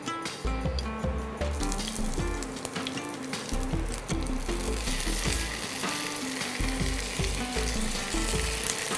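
Steamed chicken wrapped in leaf parcels fries in a pan with oil, giving a dense, steady sizzle close up, along with repeated stirring or scraping knocks, and no talking.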